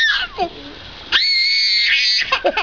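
Children scream loudly in high-pitched bursts, one long piercing shriek in the middle, followed by short excited squeals.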